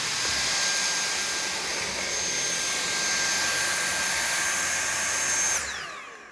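A Dyson V7 Animal+ cordless stick vacuum runs with a steady, close high-pitched whine and airy rush, then winds down and cuts off near the end.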